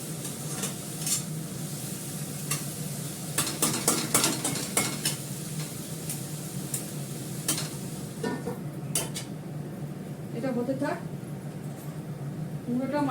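Greens (saag) cooking in a pan over a low gas flame are stirred with a utensil, giving scraping and scratching strokes over a steady soft sizzle while someone talks nearby.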